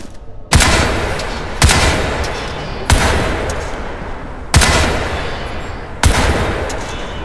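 Weapon fire in the Crysis 3 tutorial: five loud, sharp gunshot bursts spaced about a second apart, each with a booming onset and a long decaying roar trailing off before the next.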